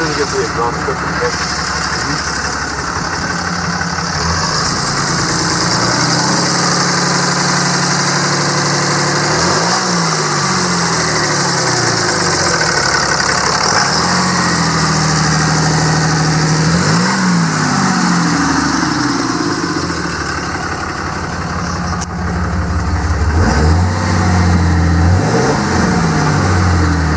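A 2009 Dodge Ram 4500 bucket truck engine idles steadily, then revs in several repeated swells up and back down, loud and close throughout, while people talk over it.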